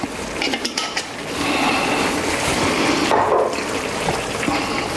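Two cups of passata tomato puree pour into a cooking pot for a Greek spaghetti meat sauce, a thick gushing, glugging stream after a few light clinks of utensils, with no talking.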